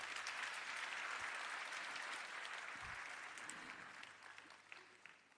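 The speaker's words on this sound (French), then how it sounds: "merci de l'applaudir s'il vous plaît." Sustained applause from a school ceremony audience honouring the top student of the Concours Général, steady and fairly loud throughout before thinning out near the end.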